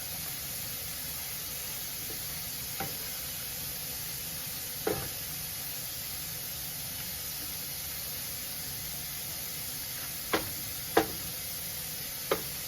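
A seafood tamale mixture cooks in a pan, a continuous close sizzle and hiss with a few sharp clinks and scrapes of a utensil spaced through it, no talking.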